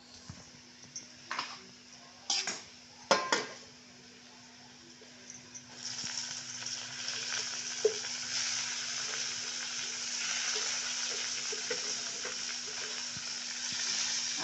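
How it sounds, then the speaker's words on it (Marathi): Tomatoes tipped into onions already browned on full gas in a pan: a few sharp clatters and bumps at first, then a steady broad sizzle of frying that carries on to the end, with no talk. "मी फुल गॅसवर ना आपला कांदा ना चांगला एक तीन ते चार मिनटं असा परतून घेतला"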